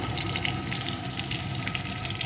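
Potatoes frying in a pan with turmeric and salt for a koi fish and eggplant curry, a loud, dense, continuous sizzle heard close up without any talking.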